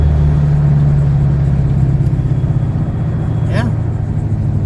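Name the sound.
2015-2017 Ford Mustang engine while driving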